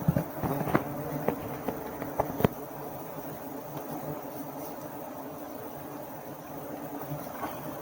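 Bees buzz around a high hive outdoors, a steady insect hum with a few louder close passes and sharp knocks early on, then a fairly even drone.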